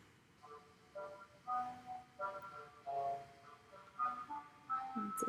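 A short orchestral melody, the cat theme from Peter and the Wolf, phrased in separate rising and falling notes at a steady moderate level, alone with no voices.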